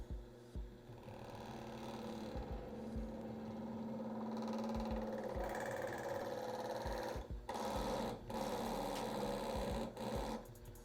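A metal spinning lathe works a square sheet-metal piece, its steady mechanical whir running continuously with rhythmic rubbing and tool-pressure thumps, a few sharper bursts near the end.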